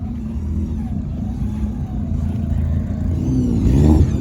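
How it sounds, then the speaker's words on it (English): A Skoda Octavia VRS touring car's engine idling with a low burbling hum that builds into a louder rev near the end, close and prominent at a hillclimb car gathering. "So this is an Octavia VRS touring car."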